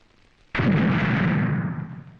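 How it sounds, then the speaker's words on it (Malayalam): A single loud firecracker burst, set off as a temple offering, erupts suddenly, followed by a rumbling, crackling tail that slowly fades over about two seconds. "ആ വെടിപൊട്ടുന്നത് ഹരിക്കുഞ്ഞിന് വേണ്ടിയാ."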